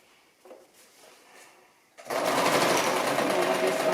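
A Brother LX-3125 sewing machine starts after a couple of quiet seconds of faint handling and runs in a steady, fast mechanical whir, close by and alone.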